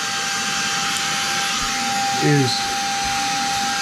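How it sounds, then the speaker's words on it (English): A small battery-powered vacuum cleaner with a dust attachment runs with a steady high electric whine while cleaning a bathroom exhaust vent, close and continuous, with a person speaking briefly over it. "it's our vacuum cleaner that has a dust attachment here."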